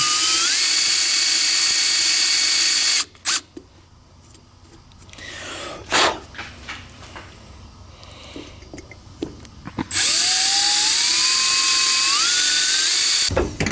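Electric drill boring into a broken bolt on a KTM 300 dirt bike, a loud high whine that rises in pitch, cuts out for several seconds of quiet clatter, then spins up again.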